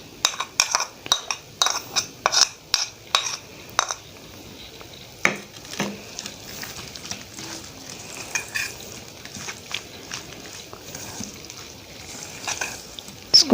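Chicken or goat liver being stirred with turmeric, salt, and a ginger-garlic-green-chilli paste in a pan, with repeated utensil scrapes and clinks at a steady rhythm over a soft sizzle, close and fairly loud.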